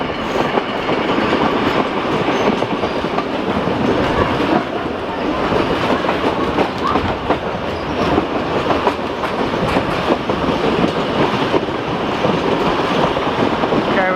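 A tourist railway train rolls steadily along the rails, loud and close, with a continuous rumble and rhythmic clatter for the whole stretch.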